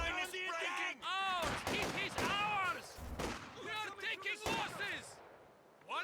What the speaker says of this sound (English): Now it sounds like I've got 3 SVTs firing